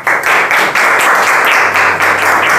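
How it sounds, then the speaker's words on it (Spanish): A wedding ceremony crowd in Santa Rosa breaks into loud, dense applause for Uma, many hands clapping together in a steady roar that swells slightly in waves throughout. "un aplauso para Uma"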